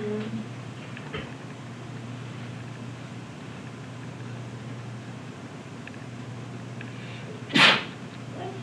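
A single short sneeze bursts out near the end over a steady low hum and faint room noise.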